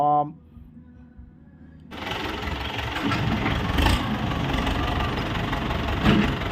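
A Ford 6600 tractor with a T3 engine runs steadily and smoothly at close range, its broadband mechanical rumble starting abruptly after a short quiet opening with a brief voice, then holding a constant level throughout.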